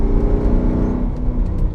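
A Mercedes C55 AMG with a naturally aspirated 5.4-liter M113 V8, fitted with a C350 manual transmission, stock clutch and flywheel, runs close and loud with a deep, steady rumble and no voices over it.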